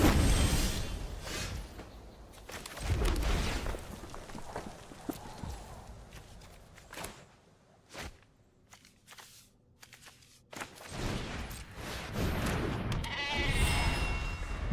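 Sheep in a video game bleat in several short calls scattered among hoof-like clopping and other game sounds, with quiet gaps in between.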